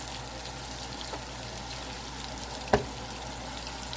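Butter melting in a pan for fried corn gives a low, steady sizzle and faint frying hiss, with one brief clack partway through and no talking.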